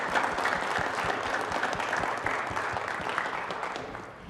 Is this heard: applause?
yes